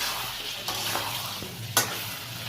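Spice paste (masala) for a vegetarian pumpkin curry fries in oil with a continuous hiss, while a spatula stirs and scrapes through it, with one sharper clatter partway through.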